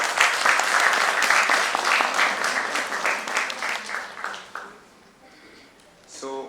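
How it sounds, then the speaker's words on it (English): A conference audience at a nursing conclave panel in Mumbai applauds loudly, a dense burst of clapping that thins out and trails off after about five seconds before a brief sound at the close. "just a huge round of applause for yourself"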